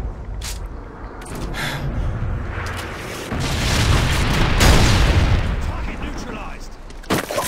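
Heavy, rumbling Predator missile explosions in the Modern Warfare 2 shooter on a carnival map, a dense roar that builds and swells midway, with sharper gunfire cracks scattered throughout.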